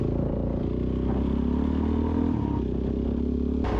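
Motorcycle engine droning steadily while riding around a lake, a low continuous rumble mixed with wind and road noise, constant and close throughout with no pauses.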